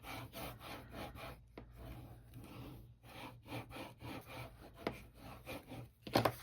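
Quiet rhythmic rubbing as a glued paper piece on a scrapbook box is burnished by hand, with repeated short strokes close by and soft scuffs between them.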